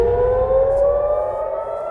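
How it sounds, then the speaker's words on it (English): Air raid sirens wail over Jerusalem, a sustained, steady civil defense tone that carries loudly across the city, with a slight drift in pitch. "Sirens were heard over Jerusalem and alerts were also issued across Tel Aviv"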